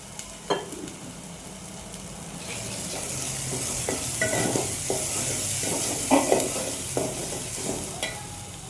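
Homemade garam masala and onion-garlic masala sizzle in a hot pan for soybean rassa, with a steady frying hiss and repeated close scrapes and clinks of a spoon stirring through the spices.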